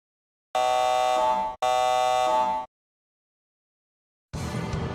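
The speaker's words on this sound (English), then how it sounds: "Warning. Activating alarm system." Alarm system activating in the Star Ocean video game: two long, loud electronic buzzer blasts back to back, then silence before a burst of noisy sound at the end.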